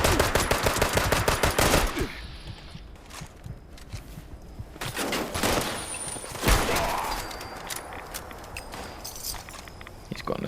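Assault rifle fire in Fallout 76 crackles in rapid bursts, a dense volley at first, then scattered shots and a few sharp reports amid thuds and footsteps during a fight with super mutants.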